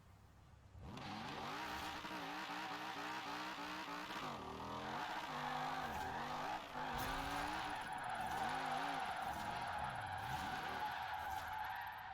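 A car drifting on drag slick tyres in the Forza Horizon 4 racing game, engine revving up and down in repeated surges while tyres squeal steadily underneath, loud and continuous with no talking.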